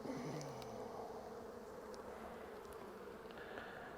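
Honeybees buzzing around an orchard apiary hive, a steady faint drone of several insects nearby with no talk.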